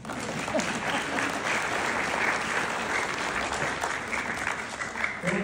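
Dense, steady audience applause holds at an even, loud level throughout, with no voices over it.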